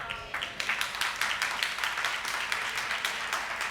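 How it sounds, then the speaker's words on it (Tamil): A church congregation claps hands together in a steady, rhythmic beat during worship, loud and continuous throughout. "கைத்தட்டி ஆண்டவரை மகிமைப்படுத்து"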